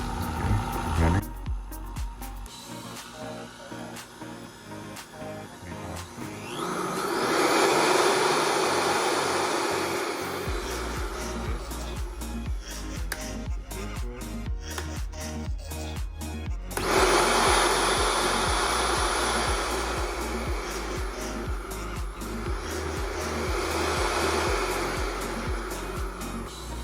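A Vitamix blender motor, just fitted with a replacement switch, runs loud and steady, winding up and easing back at least twice across the stretch, with no speech.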